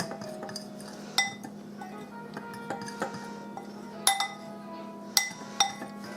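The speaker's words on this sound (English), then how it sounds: "2 cups of all-purpose flour, 1 teaspoon of salt, gonna mix that up." All-purpose flour and salt for a pie crust mixed in a bowl: sharp, ringing clinks of a utensil against the bowl at irregular intervals, close and clear over a low steady hum, no talking.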